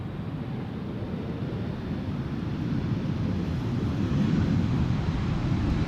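A British Airways plane, a 22-year-old aircraft, landing at Schiphol Airport, a broad steady jet roar that swells slightly toward the end, heard from a distance through wind noise.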